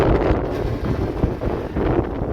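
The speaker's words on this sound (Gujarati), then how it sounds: "પવન બહુ" Strong wind sweeps across an open farm field during sowing, buffeting the microphone in a loud, continuous roar with small gusts and no voices.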